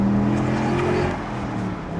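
A 2014 Chevrolet Camaro Z28 drives on a public street in California, its engine a steady, close rumble that eases off slightly toward the end.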